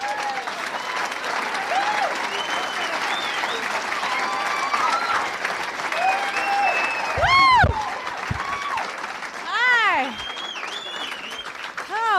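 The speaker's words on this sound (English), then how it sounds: "let's have a big round of applause, Miss Diane Nichols." Warm audience applause for a comedian at a stand-up comedy club show, steady clapping filling the room for several seconds, with scattered whoops and cheers rising briefly near the end.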